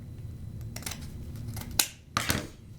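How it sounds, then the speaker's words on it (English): Scissors snip through a folded pile of ribbon, making a few crisp, close cuts with short pauses between them, and no voices are heard. "So you're going to go in the center of the pile and cut up the top fold"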